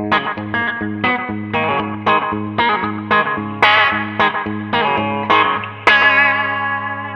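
A Reverend Reeves Gabrels Dirtbike single-pickup electric guitar played through distortion, a series of ringing picked chords and notes with sustained overtones, loud and alone with no talking.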